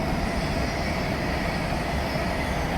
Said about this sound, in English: And there's another train going past.